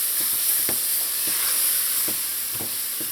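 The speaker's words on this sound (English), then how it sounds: "Now you're going to throw your milk in and throw a little at a time" Milk poured a little at a time into flour cooking in a hot pot, giving a steady bright sizzle with scattered soft stirring scrapes and taps, close up, with no one talking.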